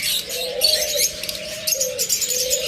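Pet budgerigars at a bird farm chirp and twitter close by in quick bright bursts over a soft, sustained cooing tone.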